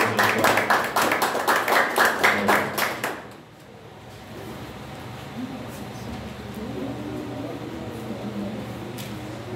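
Church congregation clapping in rapid rhythmic bursts at an evening worship service, loud and close for about three seconds before fading into a quiet room murmur.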